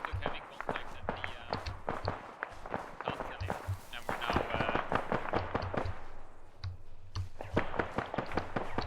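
Mortar and gunfire in the military shooter game ArmA, heard as a rapid series of sharp cracking bangs that repeat through the stretch, fairly loud and close, over a faint low rumble.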